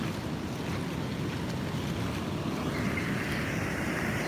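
Ocean surf rolling onto a sandy beach where fish feed in the shallows, a steady loud wash of breaking waves with wind buffeting the microphone throughout.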